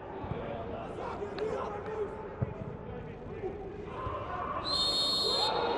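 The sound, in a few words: referee whistle in football match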